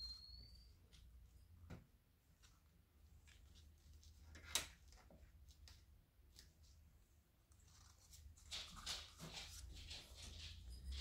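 A puppy whimpers and whines softly indoors across the stretch, with a sharper yelp partway through and faint shuffling noises in a quiet room.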